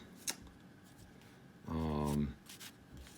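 Cards from the Civilization: A New Dawn board game shuffle and rustle close by in a short, papery burst, with a few light taps before and after.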